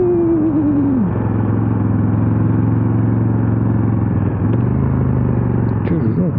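A 2019 KTM 1290 Super Duke R Gen 2 being ridden, its engine note droning steadily with pitch shifts through quick-shifter gear changes under heavy wind rumble, while the rider talks over it.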